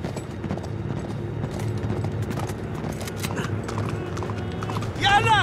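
Horse galloping in Uncharted 3, rapid clip-clop hoofbeats running steadily with mechanical game noises, under excited talk, ending with a sharp whinny-like burst.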